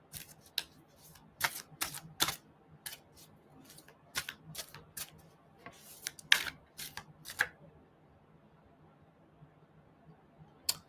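A deck of tarot cards being shuffled close up, with repeated quick riffling bursts and soft card flicks, separated by brief pauses and followed by near silence.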